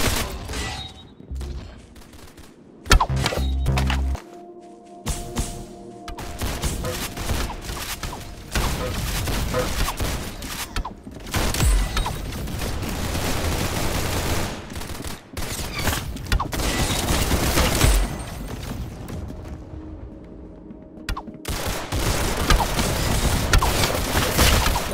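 Gunfire in the Roblox Arsenal video game rattles almost nonstop as dense, loud volleys of shots with occasional booms and short gaps.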